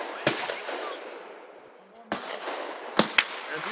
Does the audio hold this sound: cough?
no